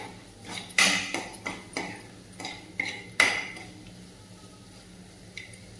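Okra (bhindi) is sautéed in a pan for a no-onion, no-garlic mixed vegetable dish, with repeated sharp clinks and scrapes of a spatula against metal at an uneven pace, close by and moderately loud, with no talking.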